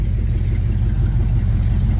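A 1973 Cadillac's old V8 idles with a deep, rough rumble, its exhaust broken at the front and loud. The pulsing drone is steady and close, with no voices over it.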